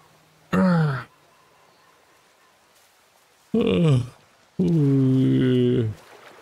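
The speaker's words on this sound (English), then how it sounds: "I was trying not to yawn this whole time." A person yawns loudly and close up, three drawn-out, moaning vocal exhalations with short pauses between them, the last one longest and most sustained, while playing Ghost Recon Breakpoint.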